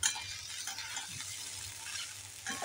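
Soaked sago goes into a hot pan and is stirred, producing a soft continuous sizzle with light scraping and a louder burst at the start and near the end.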